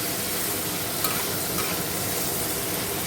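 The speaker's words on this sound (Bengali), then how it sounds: "এখানে দেখো কড়াইতে চিংড়ি মাছ ভাজা হচ্ছে" Prawns fry in a wok with a dense, even hiss that runs without a break through the short stretch, close and steady, with no voices.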